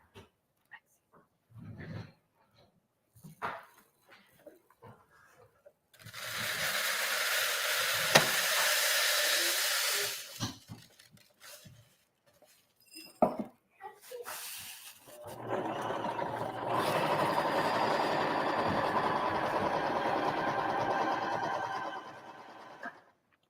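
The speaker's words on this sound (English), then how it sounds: "So I'm going to sew mine now." A sewing machine stitches a fabric heater bag in two sustained runs of steady mechanical whirring, separated by a quieter stretch of handling noises and brief clicks.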